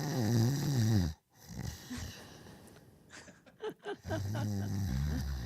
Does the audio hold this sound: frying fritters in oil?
no